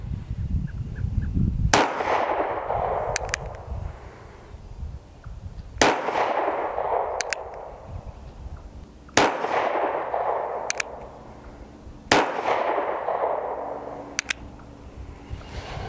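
Four sharp gunshots from an NAA .22 Mag mini revolver crack out a few seconds apart, each loud and close with a short ringing decay, with faint metallic clicks between shots.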